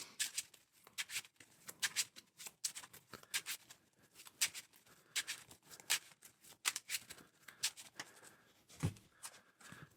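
Marvel Champions playing cards being shuffled by hand at a tabletop during a solo game, a series of quiet, crisp riffling bursts and soft card snaps in irregular clusters, close and faint.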